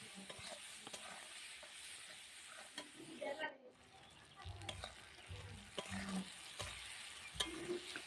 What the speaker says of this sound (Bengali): ভালো করে পেঁয়াজটাকে লাল লাল করে ভেজে নেব